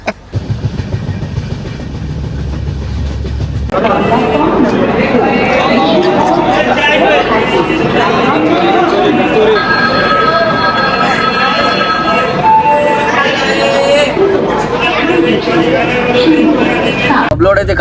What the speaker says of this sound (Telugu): మళ్ళీ ట్రైన్ ఎక్కినాం. ట్రైన్ స్టార్ట్ అయిపోయింది.